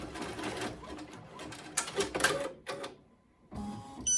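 A single- or multi-needle embroidery machine runs a placement stitch for an in-the-hoop hand sanitizer holder, a busy mechanical whirring that pauses briefly near the end and then starts again, with no talking.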